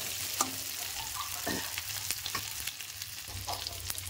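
Brinjal sizzling as it is stir-fried in a pan, with scraping stir strokes at irregular intervals, fairly quiet and close, no voices.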